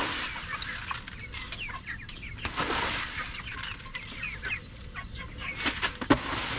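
Chickens clucking and fussing close by, with scattered squawks and a brief flutter of wings over a quiet outdoor background.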